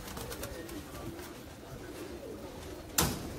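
Pigeons of a thorn-crested breed cooing softly in a loft, a low continuous murmur of calls with a sharp brief knock near the end.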